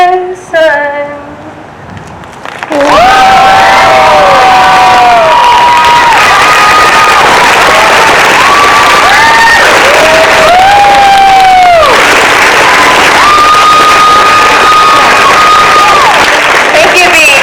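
A crowd at an outdoor climate strike rally cheers and applauds its speakers and musicians. After a quieter opening, a loud, sustained wash of clapping erupts, with whoops and shouts rising above it.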